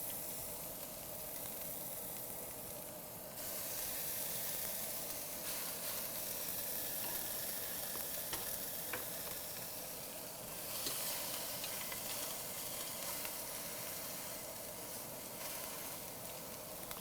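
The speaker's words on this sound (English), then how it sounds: "You want to hear a nice sizzle when you put your piece of meat in." Pork pieces sear fat side down in a hot pan for green chili pork tamales, giving a steady close sizzle and hiss that runs unbroken, with small crackles and no talking.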